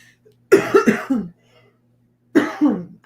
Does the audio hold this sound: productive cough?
yes